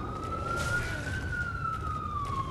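An emergency vehicle siren wails steadily outside, its long rising and falling tone sustained for the whole stretch over a low rumble of traffic, fairly loud and alone without talk.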